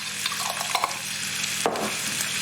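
Chicken wings fry in a pan with a steady, close sizzle as minced garlic is added. Light stirring scrapes and one sharper clatter come through partway along.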